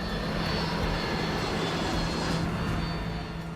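A business jet diving over Mexico City roars loudly and steadily with its engines straining, a thick, continuous rumble and whine with no gaps.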